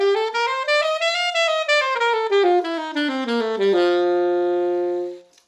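A dominant bebop scale in concert F rises and then falls as a quick run of clean single notes on a horn, ending on a held low note that fades out.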